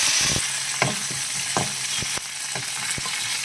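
Curry leaves dropped into hot oil in a kadai with mustard seeds and cumin, crackling and sizzling loudly up close, with repeated spoon scrapes against the pan keeping a loose rhythm.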